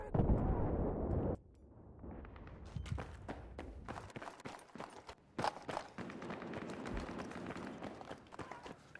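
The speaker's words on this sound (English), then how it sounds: "Bomb grenade!" A loud blast in the Battlefield 3 video game opens the clip and cuts off abruptly. Running footsteps, scattered sharp impacts and distant gunfire follow at a lower level.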